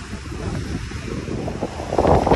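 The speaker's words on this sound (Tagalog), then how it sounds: "nagsisimula na naman ang malakas na alon at malakas na hangin" Strong wind and heavy ocean waves on Dolomite Beach along Manila Bay, a steady broadband roar with surf building louder toward the end, no voices.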